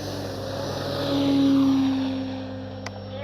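A yellow E-flite Carbon Z T-28 RC warbird flies past with a steady propeller drone that swells as it approaches overhead and then fades, with a brief click near the end.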